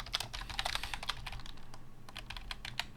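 Rapid keystrokes on a computer keyboard while Laravel code is written, coming in short clustered bursts of sharp clicks, close and fairly clear, with a steady low hum underneath and no talking.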